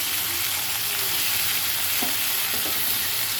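Dried fish frying in hot oil, a loud continuous sizzle with occasional scrapes and knocks of a spoon stirring the pan.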